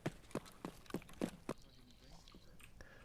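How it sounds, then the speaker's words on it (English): Footsteps in the shooter Escape from Tarkov: about six sharp, evenly spaced steps land in quick succession, then fade into quieter, scattered movement and soft game ambience. "Oh, I can hear someone's footsteps."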